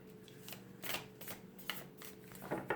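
Tarot cards being shuffled close up, a series of quick riffling bursts with short pauses between them, over a faint background hum.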